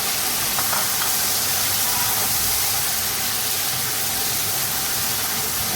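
Cumin seeds frying in hot oil for a chicken curry, a steady, dense sizzle and hiss that runs evenly throughout with no talking.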